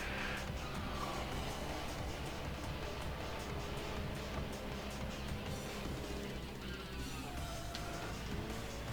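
A street car's engine in Tokyo Xtreme Racer 2 keeps pulling in fifth gear, a dense, continuous high-revving roar that holds steady throughout without any speech.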